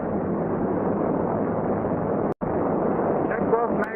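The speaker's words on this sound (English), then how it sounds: "Now we'll run the left engine to 2350 RPM." The left engine of a C-47 aircraft is run up to 2350 RPM, making a steady, loud, broadband droning roar throughout with one brief dropout.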